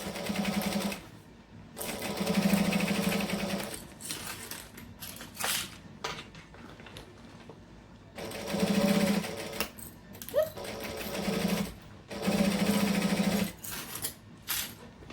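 A sewing machine stitches a camera bag in about five close, steady runs of whirring, separated by brief pauses while the fabric is turned.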